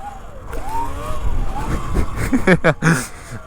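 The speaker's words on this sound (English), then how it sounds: "This thing has some serious power. Just look at this, just throttle." An E-Ride Pro 2.5 electric moped accelerates on throttle. Its motor whine rises in pitch over close wind and road rumble, with a brief burst of voice near the end.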